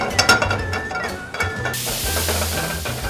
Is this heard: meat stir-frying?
yes